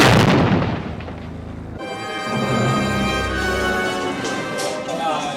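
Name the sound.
pyrotechnic fire effect on Indiana Jones film set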